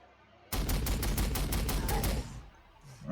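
Plasma and bolter weapons fire in Warhammer 40,000: Sanctus Reach, a loud rapid burst of repeated shots lasting about two seconds after a brief quiet start, then fading out.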